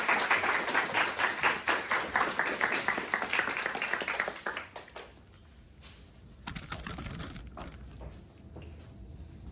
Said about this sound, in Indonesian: tepuk tangan sekali lagi untuk Gali